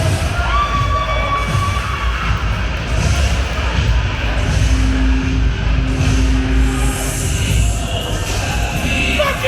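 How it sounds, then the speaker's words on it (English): Crowd at a Freedom Rings wrestling event roars in a loud, sustained wash of cheering and shouting that fills the whole stretch without letting up. "Get ready for the crowd to erupt here at Freedom Ring."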